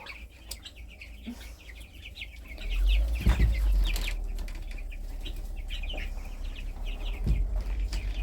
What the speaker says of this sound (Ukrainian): О, кури тікають. Втікали кури.